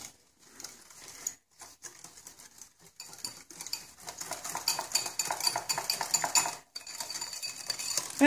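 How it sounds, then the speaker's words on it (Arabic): Utensil scraping and clinking against a bowl or pan while a mixture is stirred until the sugar dissolves, for a strawberry charlotte; steady, busy metallic scraping and clatter with short pauses, close and moderately loud, no talking. "غير غادي نخلط حتى يذوب ليا غير السكر"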